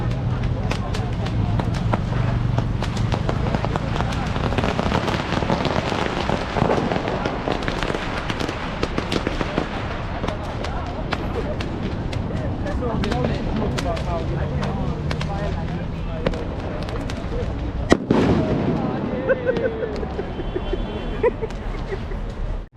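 Continuous crackle of firecrackers and booming fireworks at a Diwali celebration in Dubai, dense and loud throughout, with a sharp nearby blast toward the end and voices mixed in.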